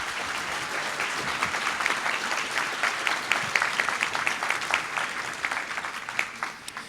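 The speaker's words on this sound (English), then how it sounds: "Let's give them one more round of applause," An audience at an academic bowl championship applauds the final four teams, a steady wash of clapping that swells toward the middle and tapers slightly at the end, with no talk over it.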